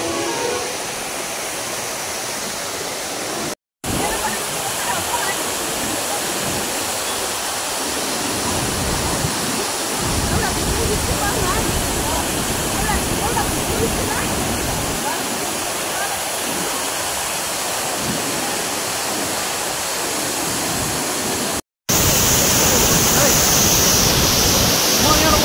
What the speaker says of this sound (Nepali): निकै सुन्दर झरना रहेको छ रूपसे